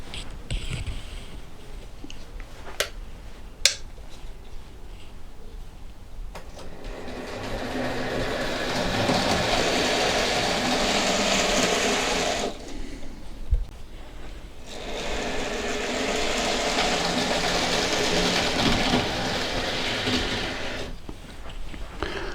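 A model train runs over Peco points and backs onto a siding, with a steady close mechanical whir and rattle of motor and wheels in two long stretches separated by a pause, plus a few sharp clicks from the track.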